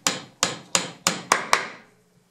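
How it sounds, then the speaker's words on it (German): Wooden dowels cut to 25 mm are hammered through an iron plate while making winter windows. Six sharp, loud, ringing blows land close by, the last two coming in quicker succession. "Ich habe die Dübel jetzt auf eine Länge von 25 mm zugesägt und schlage sie jetzt hier durch"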